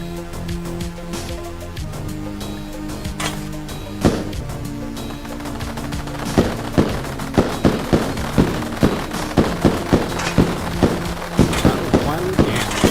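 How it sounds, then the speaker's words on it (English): Mortars fire in the video game Nestphalia as sharp, punchy booms, sparse at first and then a rapid, uneven rhythmic barrage of repeated thuds over a tonal game music bed, with commentary talking over them. "One ant going off on its own staggered the firing timings of the mortars."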